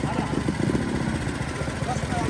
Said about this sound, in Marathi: माऊलीचा आता ट्रॅक्टर चालू केला आहे